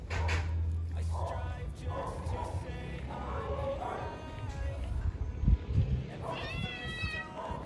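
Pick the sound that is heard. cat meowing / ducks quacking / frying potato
cat meowing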